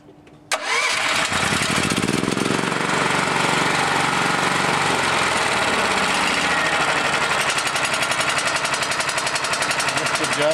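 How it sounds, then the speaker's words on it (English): A tri-fuel generator engine starts abruptly and then runs at a loud, steady idle close by, with a dense continuous mechanical drone and rapid chugging rhythm. "So let's start it back up and try it again."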